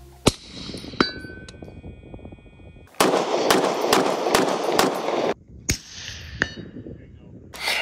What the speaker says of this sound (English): we are shooting the PSA Sabre 10